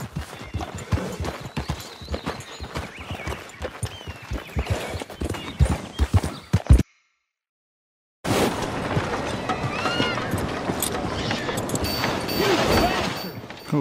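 Horse hooves clip-clop in a steady, rhythmic gait in Red Dead Redemption 2 on PS5. After a brief dead-silent break, the game scene resumes with a horse whinny and busy ambient sounds.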